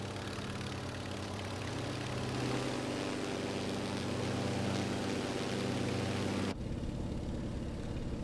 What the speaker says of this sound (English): Engine sounds are nice.